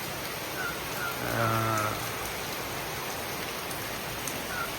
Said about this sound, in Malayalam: ശക്തിയായ മഴ രാവിലെ പെയ്തുകൊണ്ടിരിക്കുകയാണ് ഭയങ്കര മഴ